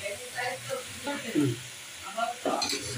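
Ginger paste sizzling as it fries in a pan alongside garlic paste for a chicken Chinese vegetable dish, with a steady crackle, occasional stirring scrapes and a voice speaking over it.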